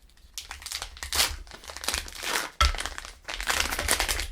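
A foil-lined wrapper on a Cadbury Orange Bournville dark chocolate bar is peeled open by hand, giving close, loud bursts of crinkling and tearing with a sharp rip midway, no voices.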